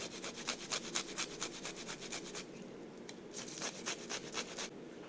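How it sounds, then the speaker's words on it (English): Garlic and ginger are rubbed over a grater in quick, quiet rasping strokes, a steady scratchy rhythm up close with a brief lull midway; no voices. "So I'm going to use this grater, and I want a couple of tablespoons."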